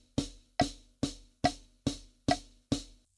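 A snare drum struck seven times in a steady, even eighth-note pulse, each hit a sharp crack with a short ringing decay, close and alone.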